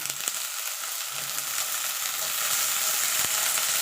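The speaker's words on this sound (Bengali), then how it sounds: "আলুটা একটু ভাজা ভাজা হয়ে গেছে আমি আলুর সঙ্গে বেগুনটা দিয়ে দেবো" Continuous bright sizzling of potato and eggplant frying in hot oil, close up and steady, with a few faint clinks.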